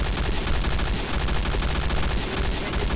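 G36C Ext. D assault rifle fire in the game Point Blank, a loud, dense stream of rapid shots with no gaps, sounding like continuous automatic gunfire throughout.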